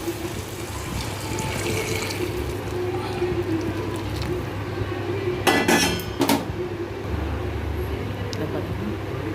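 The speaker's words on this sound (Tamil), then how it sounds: "இந்த ஸ்டேஜில் தண்ணி விட்டுக்கணும்" Water pours and splashes into a pan of sautéed coriander and mint amid kitchen clatter, with a couple of sharp metallic knocks near the middle.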